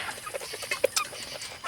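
Several Barred Rock chickens cluck in short, scattered calls over a steady backyard farm background, with brief sharper notes standing out near the middle.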